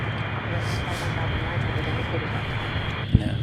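At Paine Field, a huge Boeing cargo plane gives off a loud, steady jet-engine roar that holds constant for several seconds, with people talking nearby.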